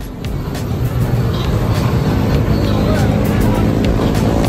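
A motorcycle fitted with a Grayson Replica Pro exhaust idles and rumbles loudly nearby at a meetup at a Petron station in Las Piñas, a deep steady engine drone with occasional faint voices.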